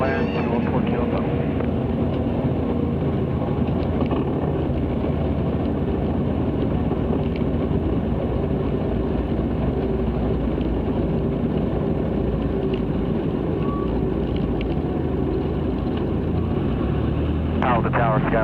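A Cessna Skycatcher light aircraft flying the traffic pattern at Palo Alto airport, its engine a steady, loud cockpit drone throughout, with voices speaking over it.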